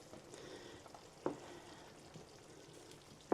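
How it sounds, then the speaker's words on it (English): Spoon stirring pasta in a pot of water on the stove, a soft continuous bubbling and sizzling bed with two sharp clinks of the spoon against the pot, no talking. "Let me give it a stir just to help it"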